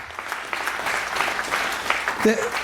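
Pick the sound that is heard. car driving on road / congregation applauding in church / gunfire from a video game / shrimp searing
congregation applauding in church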